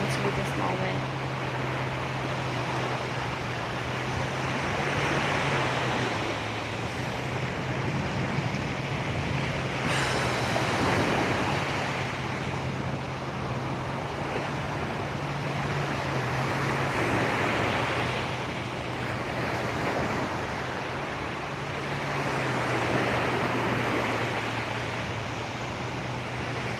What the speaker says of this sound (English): Listening to the ocean waves as a way to release that energy that's not yours and relax into this moment.